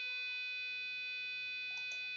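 A passive buzzer wired to a PIC16F877A microcontroller sounds a continuous, bright electronic tone throughout, fairly quiet and steady over a faint background hiss, with a couple of brief clicks near the end.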